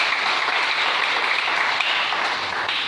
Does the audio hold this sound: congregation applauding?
yes